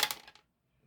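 A pair of dice rattle and clatter onto a hard surface during a Shut the Box game, with a fast burst of sharp clicks that dies out within half a second, followed by silence.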